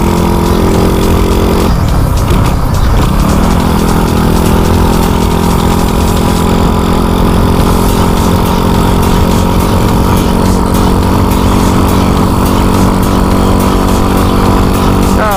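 Customised pink Honda Dream motorcycle with its engine running steadily and loud up close, a brief dip in revs early on before settling back to an even idle drone.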